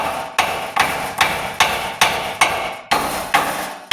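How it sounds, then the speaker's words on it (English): Repeated sharp metal hammer blows on Hummer H3 / Chevy Colorado front axle parts, about eight evenly spaced strikes ringing out close and loud, each followed by a brief decaying clang. "I'm going to take my hammer here, see if we can get this to drop down without a fight"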